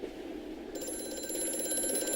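A telephone rings in the horror game Amnesia: A Machine For Pigs, a faint rattling bell starting partway in and continuing steadily, alone with no talk.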